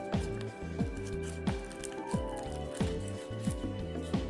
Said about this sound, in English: I was just refilling some water.